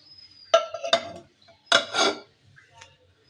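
A metal wok set down on a kitchen stove before frying fish, a few clanking knocks and scrapes close by, in two short bursts with a faint tap afterward.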